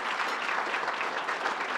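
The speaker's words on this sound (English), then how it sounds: "Let's give him a round of applause" Applause from a commencement audience for university staff, a broad, dense wash of clapping hands that stays steady and fairly loud throughout without pause.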